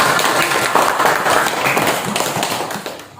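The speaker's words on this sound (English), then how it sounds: "give applause to Mira" A classroom audience applauds a student after her presentation, a steady burst of dense, close hand clapping that carries on for a few seconds before tapering slightly.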